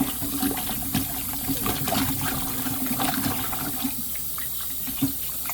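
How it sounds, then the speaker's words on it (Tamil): Cut cassava pieces are washed by hand in a bowl of water, giving steady close sloshing and splashing with small drips throughout, and no voices. "இதை நான் 2 தண்ணியில் கழுவி எடுக்க போகிறேன்."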